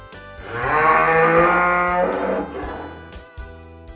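A bullock lows once in a long, harmonic moo that swells and then fades, close and fairly loud, with no other sounds around it.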